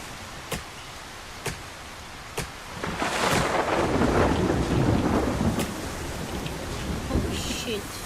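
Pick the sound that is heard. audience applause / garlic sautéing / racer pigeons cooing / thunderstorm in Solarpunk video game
thunderstorm in Solarpunk video game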